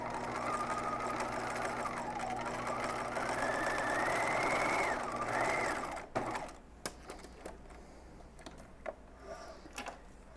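A sewing machine runs a straight stitch down the center front seam of a dress at a 1/2 inch allowance, a loud rising and falling motor whine for about six seconds, then stops, leaving soft fabric handling clicks.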